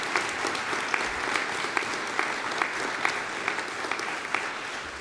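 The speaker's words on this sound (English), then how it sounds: "Can we give them a round of applause," An audience at a Cantus choral concert claps for the staff, the applause dense and sustained, with individual sharper claps standing out over the crowd.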